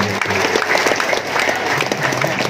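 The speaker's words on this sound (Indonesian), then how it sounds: "Tepuk tangan buat Anda" Audience applause fills a hall at a Halal Bihalal and Milad gathering addressed by Indonesian state-enterprise minister Erick Thohir, a steady, dense clatter of many hands with murmuring voices mixed in.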